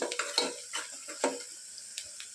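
Onions with turmeric frying in a pan, crackling sizzle broken by several stirring scrapes and clinks of a spoon against the pan, close and moderately loud, no voices.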